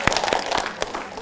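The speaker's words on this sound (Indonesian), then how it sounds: "beri tepuk tangan Ibu" A hall audience at an Islamic study gathering applauding, a short patter of scattered claps, fairly close and uneven, with some crowd noise in the background.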